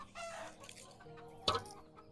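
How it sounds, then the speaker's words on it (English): A garden chicken clucks and squawks close by, with a few rising calls and one sharp burst of noise, over quiet outdoor background. "I nearly killed a chicken."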